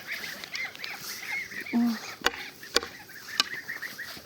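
Geese honk and chatter in a loose group at moderate distance, with a few sharp clicks or taps punctuating the calls.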